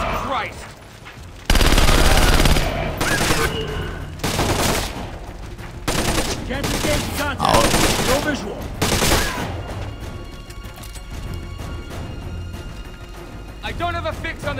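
Gunfire in the video game Splinter Cell: Conviction, loud bursts of automatic fire and repeated shots in dense clusters, then quieter stretches, with a voice speaking at points.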